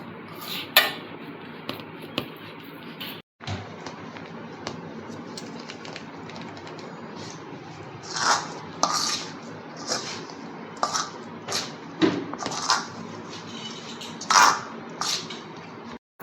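Lapsi dough of broken wheat and water is squeezed and mixed by hand in a bowl: soft, wet squishes and scattered clicks of hand against bowl, irregular and close, with no talk.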